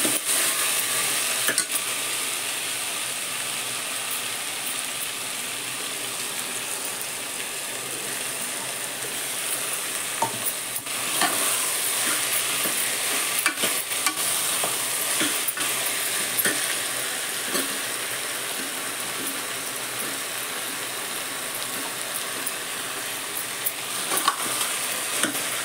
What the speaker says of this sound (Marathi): आधी भाज्या चांगल्या परतून घेते